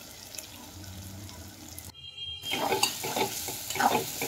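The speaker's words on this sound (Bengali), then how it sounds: "মশলার সঙ্গে ভালোভাবে কষিয়ে নেব।" Chicken dopiaza sautéing with spices and salt: steady sizzling and stirring scrapes in a pan, briefly cut off, then returning louder with clattering stirs and crackle.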